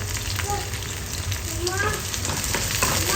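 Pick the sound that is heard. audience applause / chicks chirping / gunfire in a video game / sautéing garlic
sautéing garlic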